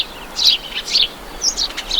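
Sparrows chirp in Okhtyrka, Ukraine: several bright, high chirps in quick bursts, fairly loud and close, over a steady background hiss.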